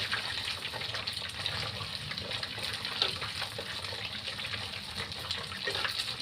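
Steady, close sizzling hiss of tofu frying in hot oil, with small crackles and pops scattered through, continuous and without any voices.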